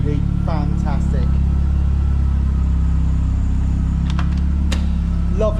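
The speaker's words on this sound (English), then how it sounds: "Got that absolutely fantastic burble from the rear end." Ford Escort RS Turbo Series 1 idling with a steady, low exhaust burble from the rear, a loud continuous rumble with a few faint higher sounds over it.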